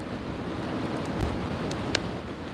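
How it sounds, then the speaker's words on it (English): Steady wind rushes through a backwoods setting, a broad continuous roar of fairly even loudness with a couple of faint ticks, and no voices. "wind blowing sounds"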